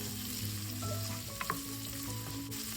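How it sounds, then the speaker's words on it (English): Corned beef seasoned with black pepper browns in a pan for ginisang corned beef, a steady soft sizzle with a low hum, a couple of brief clicks from stirring, and no voices. "I'm gonna brown them up"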